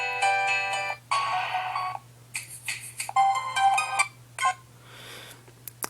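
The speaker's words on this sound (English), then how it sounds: "and then you get to these download ringtones" A Digital2 Plus phone plays downloadable ringtones: bright electronic beeping melodies in short bursts and stops, separated by brief pauses, over a steady low hum.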